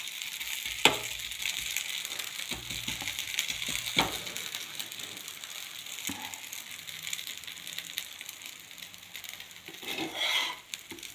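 Dosa batter frying on a hot pan, a steady broad sizzle throughout with a few scraping, clicking knocks of a spatula, close and moderately loud with no talking.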